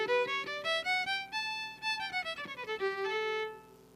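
A nine-note Highland bagpipe scale played note by note, each pitch stepping to the next over a steady drone, loud and close with no talking.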